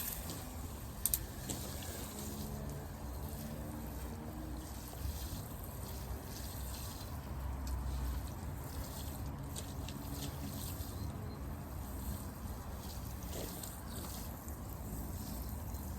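Water pours steadily onto the soil of a freshly repotted hawthorn bonsai, a continuous trickling wash heard close up for the whole stretch with a brief knock near the start and no speech.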